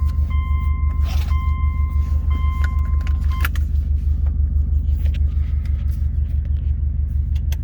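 A 2005 Subaru Legacy GT Limited cruising on the road, with a steady, loud low engine and road rumble heard from inside the cabin, plus a brief electronic chime tone near the start and some light rattles.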